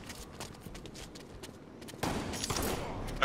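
Shotgun fire in the Halo video game, heard as a sudden loud burst of blasts that stays dense and sustained to the end, after a quieter stretch of faint game ambience.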